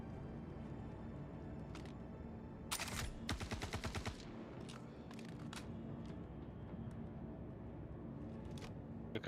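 Suppressed gunfire in the video game Star Citizen, from a gun fitted with a size 2 compressor: a short muffled burst, then a longer rapid string of shots, with a few isolated pops over a steady game ambience.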